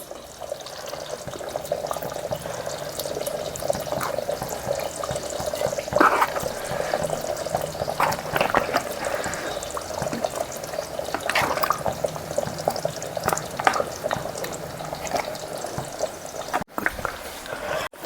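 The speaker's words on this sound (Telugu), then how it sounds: "ఫిష్ వేసేస్తున్నానండి." Fish pieces for a Korameenu Chapala Pulusu, an Andhra fish curry, go into the simmering curry in a village kitchen, a steady watery bubbling and splashing that stays close and continuous, with brief clatters and no speech.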